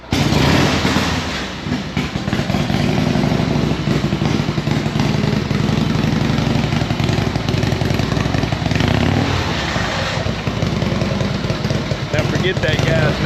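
A vintage Harley-Davidson flathead motorcycle engine runs loud and near with a rough, continuous rumble at an outdoor biker gathering, while people talk over it.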